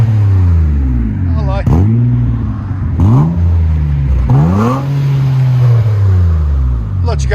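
2007 Nissan Altima 3.5L V6 with DC Sports dual exhaust mufflers revs hard several times, each rev rising and falling in a deep tone, loud and close, with a voice over it.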